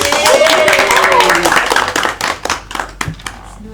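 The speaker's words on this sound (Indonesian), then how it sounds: "bisa tepuk tangan" Clapping from a small group in a classroom microteaching session, a brief burst of hand claps that thins into scattered claps with voices mixed in.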